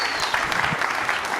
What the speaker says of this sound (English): I get an applause for losing.